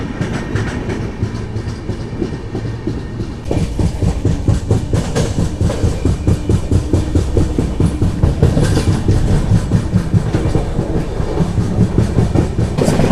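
The Pondicherry–Yesvantpur Weekly Express rolls along the rails, loud and close, with steady rhythmic clickety-clack and rumbling carriage noise throughout, growing heavier after a few seconds.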